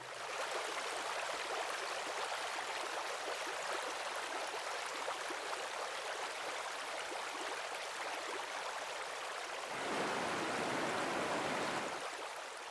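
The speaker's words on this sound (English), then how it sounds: "The scenery is lovely in this part of Maramureș, with little rivers and brooks everywhere." A little river or brook in the Maramureș countryside, a steady broadband rush of flowing water with no voices, swelling slightly louder and fuller near the end.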